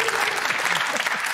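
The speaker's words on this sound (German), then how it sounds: "Du kriegst immer Applaus für zwei oder für vier" Studio audience at a German TV talk show applauding a guest, a dense, even burst of clapping that fills the whole moment at close range without letting up.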